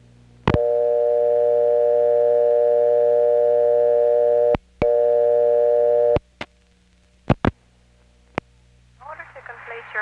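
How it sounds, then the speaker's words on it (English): A step-by-step telephone exchange answers a payphone call dialed to vacant level 9 after a dime was deposited. A steady harmonic tone runs for several seconds, breaks briefly and resumes, then gives way to sharp clicks and a faint voice at the end. "here's what it's like to dial 9, a vacant level, after you have deposited a dime"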